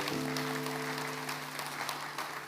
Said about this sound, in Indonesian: Puji Tuhan, kita kasih tepuk tangan dulu.